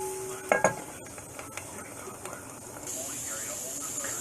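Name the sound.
vegetables and onion chunks sizzling while cooking in a pan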